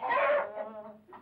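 A hen clucks up close in a farmyard setting, a short throaty burst followed by softer trailing clucks and one more brief call.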